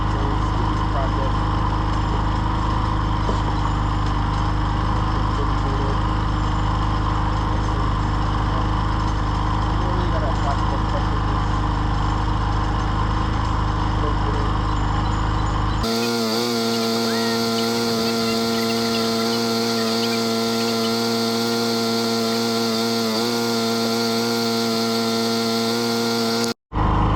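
A power sander runs steadily through the final sanding step on a car headlight lens, a continuous loud motor whine that shifts to a higher, harsher tone partway through before cutting off abruptly at the end.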